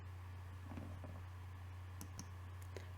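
A few soft computer mouse clicks sound close together over a steady low electrical hum in a quiet room.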